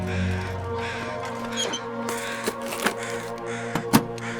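Crows caw in a video game set in a spooky canyon, several harsh calls rising over a droning ambient background, with a few sharp clicks and thuds near the end.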